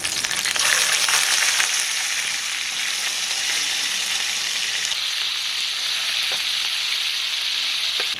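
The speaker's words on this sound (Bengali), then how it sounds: "এবার রিফাইন তেল ঢেলে দেবো, দিয়ে মাংসটাকে ভালো করে ভেজে নেব" Loud, steady sizzling of chicken pieces frying in hot refined oil, a dense continuous crackle with no voices.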